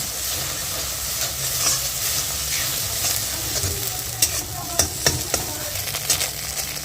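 Beaten egg for bhujia sizzles in hot oil in a kadai while a spatula stirs it, a steady frying hiss broken by several sharp scraping clicks toward the end.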